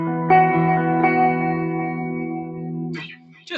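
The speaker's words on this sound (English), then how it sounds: "Anybody in here ever play with a chorus pedal? What it does to clean tones." Clean electric guitar chords ring through a chorus pedal, two strums sustaining with a shimmering, wavering swirl and slight echo before fading, followed by a brief noise at the end.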